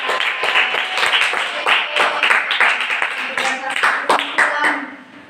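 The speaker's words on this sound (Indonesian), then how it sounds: "Tepuk tangan untuk Azmi dan juga" A classroom of primary school children clapping together, steady scattered applause that fades out at the end, with some voices mixed in.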